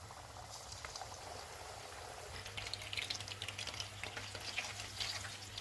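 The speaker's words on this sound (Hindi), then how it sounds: "चिकन का एक पीस लेंगे, इस पे तिल लगाएंगे और फ्राई कर लेंगे" A sesame-coated chicken piece frying in hot oil over low to medium heat gives a soft, steady bubbling sizzle that grows busier and crackles more in the second half, heard alone.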